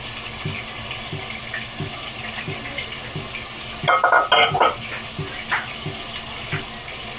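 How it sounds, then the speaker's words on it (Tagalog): Steady sizzling of tuna fish frying in a pan fills the clip, with a brief clatter of utensils midway and a faint rhythmic tapping beneath. "Ito na yung prito ko."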